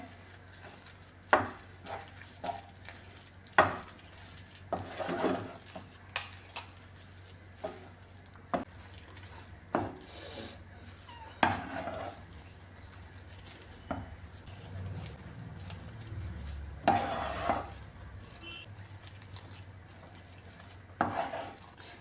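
Fried banana mixture is stirred in a pan, with repeated light metallic scrapes and clinks of a utensil against the pan over a quiet background, fairly faint and irregular, with no talking.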